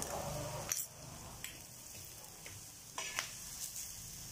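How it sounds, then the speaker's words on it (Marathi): Garlic tempering sizzles in hot oil for a spicy Khandeshi brinjal bharta. A continuous near hiss is broken by a few sharp clinks of stirring against the pan. "तो चरचरीत फोडणी निघू द्यायची. लसूण तळला जायला पाहिजे छान असं तेलामध्ये."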